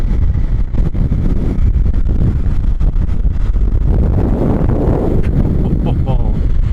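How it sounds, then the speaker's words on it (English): Heavy wind buffets the microphone in the Pyrenees during an off-road motorcycle trip, a constant low roar and rumble, loud and close throughout, with muffled talking partly buried underneath. "It's so windy here."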